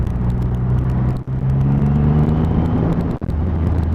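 A 2020 Triumph Rocket 3 R motorcycle engine drones loud and close on the road, with a steady rumble that rises slightly under throttle and two brief dips as gears change.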